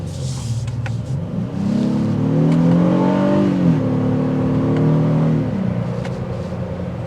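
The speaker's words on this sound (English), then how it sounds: "Let's hear that engine." A 2024 Honda Passport Trailsport's non-turbocharged V6 revs up from idle into a strong, rising rumble, holds the roar for a few seconds, then drops back to a steady idle.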